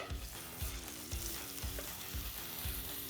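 Steak seared in a hot pan gives a steady, loud sizzle and frying hiss throughout, with low clunks of utensils pressing and stirring in rhythm; no talking.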